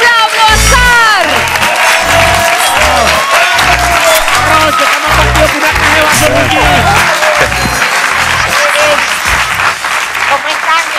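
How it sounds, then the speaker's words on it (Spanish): Loud, sustained applause from a studio audience, with dense clapping and some cheering throughout. "Que vamos a recibir con un fuerte aplauso."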